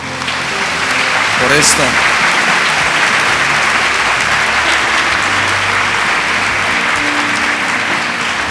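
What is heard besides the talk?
audience applause for the ladies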